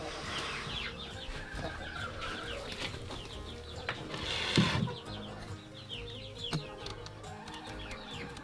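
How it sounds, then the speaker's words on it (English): Soft clucks from a broody hen and low murmurs over a busy outdoor homestead farmyard background, with occasional rustling and a brief flutter midway. "We also have a broody hen over here."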